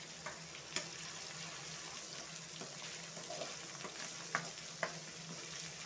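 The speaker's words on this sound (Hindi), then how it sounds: "अभी और 2 मिनट में अच्छे से फ्राई करेंगे टमाटो को।" Chopped tomato frying in a pan for mutton kaleji gives a quiet, steady sizzle, with occasional sharp clicks and taps of a spoon stirring against the pan.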